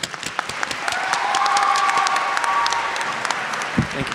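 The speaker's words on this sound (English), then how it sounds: "Let's all give a round of applause for Evan." An audience at a school assembly applauds, a dense wash of many hands clapping at steady strength through the whole stretch, with a few voices and a short thump near the end.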